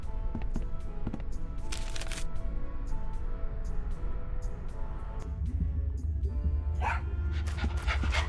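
Dog in Tales of Monkey Island panting rhythmically with a few barks and scattered clicks over a low game ambience, fairly close and steady.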